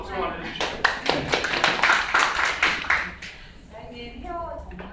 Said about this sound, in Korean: 그럼 박수 한번 해주시죠